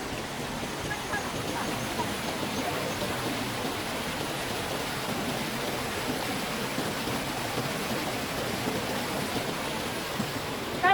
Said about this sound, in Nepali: यहाँ चाहिँ खोलाको साउन्ड कति धेरै सुनिरहेको छ